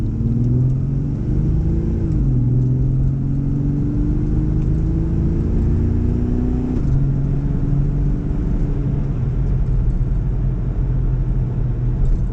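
A 1976 Jaguar XJ12L with its big V12, catalytic converters removed, drives along with a steady loud engine drone and smooth gear shifts that alter its pitch, heard alone from inside the car.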